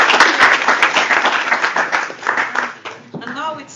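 Seminar audience applauding candidates at a results event, a dense, loud burst of clapping that thins and fades toward the end.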